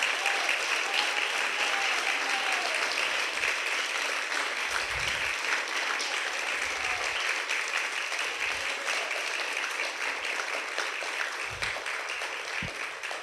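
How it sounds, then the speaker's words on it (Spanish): A church congregation applauding during a Spanish-language service, steady and sustained for over ten seconds, heard from a moderate distance with a few low thumps underneath. "Y yo quiero que le demos un aplauso al Señor por eso."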